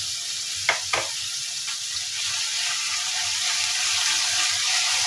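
Onion frying in oil in a pan gives a steady, broad sizzle that holds for the whole stretch, with two brief stirring knocks near the start and no voices.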